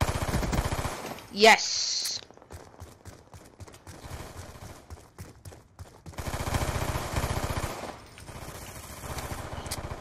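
Machine gun fire in the shooter game Call of Duty Black Ops 2: dense, rapid automatic bursts with a brief gap partway through, loud and close, while a player talks over the gunfire.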